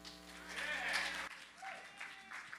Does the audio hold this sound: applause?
yes